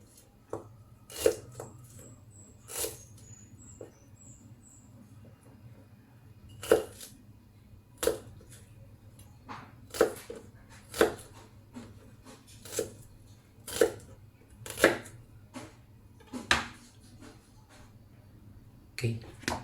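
Knife chopping onion into small pieces on a cutting board for chayote kimchi, a steady series of sharp, close taps spaced about a second apart, with a faint background hum.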